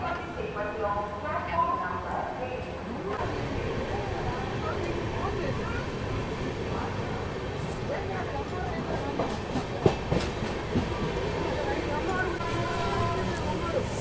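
Pinakini Superfast Express on its run out of Chennai Central toward Vijayawada, heard from inside as a steady rumble of wheels on rails with rattling carriage noise throughout and a brief knock near the end.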